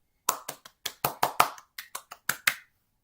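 Eleven sharp hand claps ring out singly in an uneven, deliberate rhythm, close and dry with brief silences between them, in praise of a fine headed goal by Marquinhos in a PSG career-mode football game.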